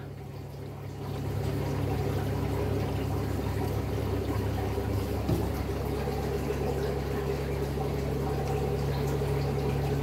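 Water steadily drains from a large piranha tank during cleaning, a continuous rushing, gurgling flow that holds even and fairly loud for the whole stretch, with a low hum beneath it.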